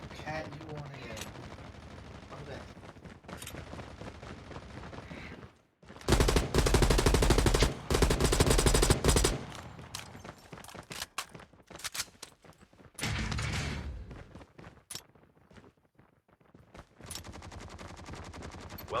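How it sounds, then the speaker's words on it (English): Bursts of LMG and assault rifle fire in a shooter video game, loud rapid automatic volleys separated by quieter stretches of game ambience. "I'm playing with an LMG and an assault rifle."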